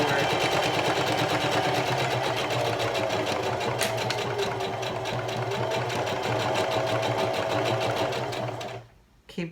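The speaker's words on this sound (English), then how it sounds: "I'm just going to sew straight across. Going to start by doing a back stitch and then continue forward." A sewing machine stitches straight across the layers of an extra-large tote bag, giving a loud, fast, continuous close whir that stops abruptly near the end.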